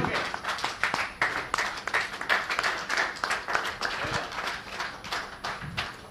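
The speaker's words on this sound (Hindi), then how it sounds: "एसटीएफ वाले तालियां बजाएंगे अब" Seminar audience members applaud the STF team, a room full of clapping hands in a lively, uneven patter that stays steady and fairly close throughout.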